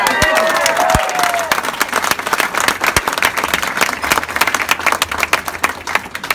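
Wedding guests burst into loud, dense applause for the bride at a reception, with many hands clapping steadily for several seconds and a few cheers mixed in.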